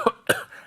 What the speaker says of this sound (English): I was doing a couple clearing coughs.